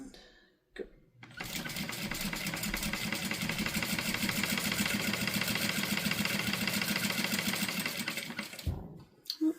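A sewing machine runs steadily for about eight seconds in one continuous, rapid mechanical stitching burst, close and loud, starting and stopping abruptly with quiet moments at either end.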